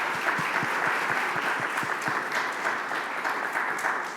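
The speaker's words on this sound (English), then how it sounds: "Let's give a round of applause," Audience applause for panelists at the end of a conference panel session, continuous even clapping from a seated crowd, moderately loud and sustained for several seconds without speech.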